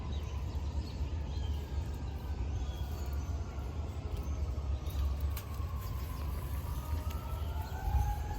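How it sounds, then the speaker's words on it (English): Emergency vehicle sirens wail at a distance on a nice day near Hollywood Cemetery, thin rising and falling tones over steady traffic rumble, with no talking. "Sirens. Nice day for sirens."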